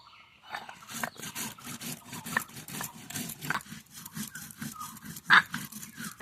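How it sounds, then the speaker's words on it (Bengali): Cumin seeds and dried chili are ground into a paste by hand on a grinding stone in a home kitchen, giving steady rhythmic back-and-forth scraping strokes at close range, with no talk. "আমি মাছের জন্য যে মশলা লাগবে জিরে আর লঙ্কা ওই দুটো বেটে নেব"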